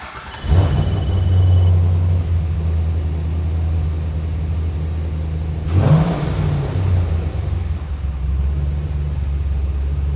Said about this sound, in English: I love the sound of this modern small block.